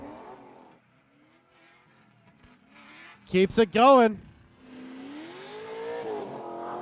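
A drift race car on a track for Spec-D qualifying accelerates hard in a brief loud burst of engine revving, between stretches of commentary speech.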